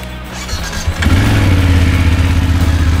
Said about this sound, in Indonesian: motor ini kan inline twin, berbeda dengan BMW GS yang lain, bentuknya adalah mesin boxer, sehingga punya karakter suara yang berbeda.